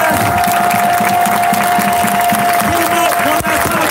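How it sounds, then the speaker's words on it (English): Crowd at a protest rally breaks into applause and cheering, a dense continuous wash of clapping close by with voices calling out through it. "Give yourself a round of applause."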